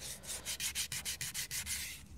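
An alloy wheel coated in primer is sanded by hand through progressively finer grits, a steady rhythmic rubbing of about a dozen close, even strokes with no talking.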